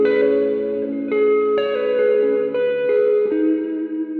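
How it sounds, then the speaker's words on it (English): A sustained electric guitar playing chords through an Audient Sono, with a new strum about every half second and a long, washy cathedral-style reverb trailing behind each one. "you're getting a nice bit of reverb from the cathedral."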